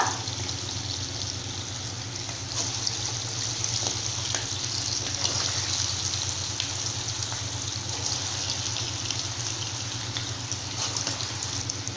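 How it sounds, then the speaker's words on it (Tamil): Urad dal bondas frying in hot oil, a steady, close hiss and crackle that continues evenly throughout with no pauses and no speech. "இந்த டைமில் நான் போண்டா போடுறேன்."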